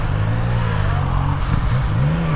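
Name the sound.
Yamaha MT-09 motorcycle accelerating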